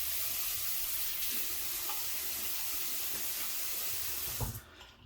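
Tap water runs steadily into a sink while someone wets their face before a shave, a continuous broadband rush that cuts off near the end as the flow stops.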